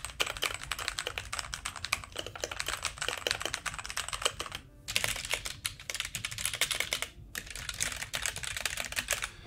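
Fast typing on a ROCCAT Vulcan II keyboard: dense, clicky keystrokes rattle continuously at close range with one brief pause partway through, and no voices are heard.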